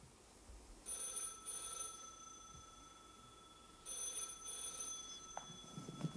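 A telephone bell rings in two bursts, each lasting about a second, with the second burst following a short pause. After a longer gap, another pair of rings comes. The ringing is moderately loud and plays over a quiet room with no talking.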